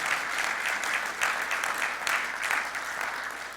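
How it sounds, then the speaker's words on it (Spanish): Church congregation clapping loudly for the Lord during a Spanish-language sermon, a steady, full burst of applause filling the room with no talk over it. "Dale el aplauso fuerte al Señor."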